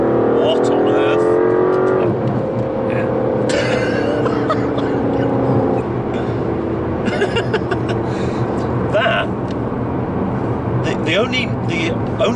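An Aston Martin DBS Superleggera accelerates hard, its engine rising through sharp revving climbs and shifts, loud and close from inside the car, with people talking and a cough over the roar.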